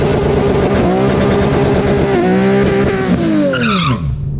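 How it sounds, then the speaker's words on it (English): An Infiniti car at a drag race roars loudly with engine revving, a rising and falling pitch, and tire squeal as it launches and pulls away. "This Infiniti sounds interesting."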